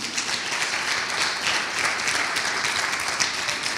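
A church congregation claps loudly and steadily, a dense, even wash of applause filling the room with no pauses.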